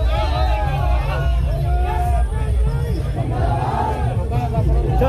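A crowd gathered around a DJ sound setup being unloaded and loaded onto trucks, a dense continuous hubbub of many voices and shouts close by, with no break through the whole stretch.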